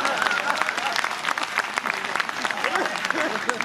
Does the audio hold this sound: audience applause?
yes